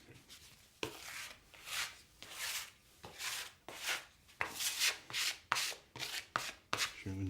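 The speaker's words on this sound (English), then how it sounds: "that's ready to be divided nice and neatly with your scraper again" Bread dough being divided with a scraper: a series of close, soft scraping and rubbing strokes in an irregular rhythm, with quick tapping knocks near the end and no talk.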